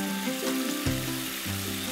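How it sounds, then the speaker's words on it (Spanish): Diced leek and onion frying slowly in oil in a pan, a continuous close sizzle with stirring scrapes and no voices. "En ese mismo aceite sofreímos a fuego lento el puerro y la cebolla"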